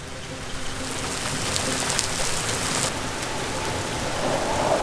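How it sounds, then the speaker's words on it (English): Heavy rain pouring down outdoors, a dense continuous hiss of drops striking surfaces, loud and close, steady through the whole stretch with no speech over it. "I need to get inside because it's actually downpouring"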